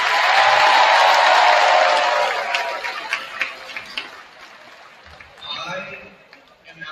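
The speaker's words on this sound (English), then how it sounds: "I just want to give another round of applause to Noemi" Applause from a crowd of students at a school Wish Week assembly fills the room loudly for about two seconds, then thins into scattered claps and chatter before fading.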